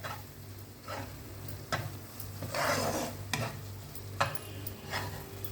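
Semolina roasting in cow ghee for sheera gives a soft, steady sizzle, stirred with a spoon that scrapes and taps the pan every second or so; close and moderately quiet, with no talking.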